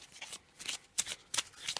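Playing cards are riffled and shuffled in a few quick, crisp bursts, close and fairly quiet, during a board game session.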